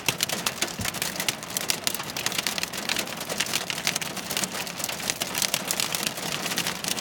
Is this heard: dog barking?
no